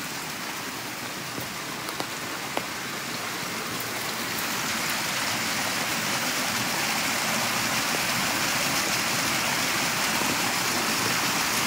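Water stream flowing through a forest in Norway near Kristiansand, a steady broadband rushing and splashing that holds an even, moderately loud level throughout, with no voices.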